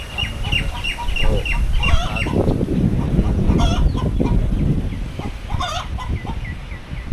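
Several chickens cluck and chatter close by over a busy, noisy farmyard background, with occasional sharper calls rising above the din.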